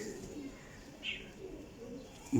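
Pigeons coo softly in a loft among birds kept for sale, a low murmuring coo with a faint chirp standing out near the middle, steady background bird noise throughout.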